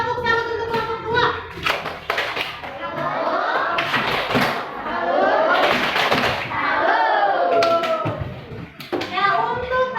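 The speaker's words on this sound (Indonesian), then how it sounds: "Tepuk tangan untuk kelompok dua." A group claps in a burst of applause while children chatter and call out around it, lively and close in a room.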